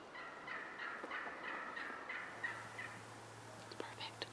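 Wild turkeys call and gobble during a spring hunt, several harsh rattling calls at moderate distance, repeated in bursts over steady outdoor background noise.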